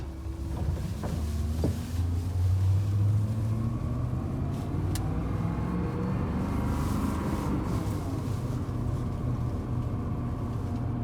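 BMW Z8 with a V8 engine runs steadily at a close distance, a continuous low engine drone with noticeable mechanical valve train clatter, no voices over it.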